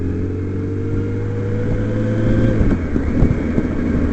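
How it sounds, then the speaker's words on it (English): A 1977 Kawasaki motorcycle fitted with a Windjammer fairing idles nearby, a steady loud engine drone with a low throb that swells slightly toward the end. "Once I got this Kawasaki running, this is an awesome bike."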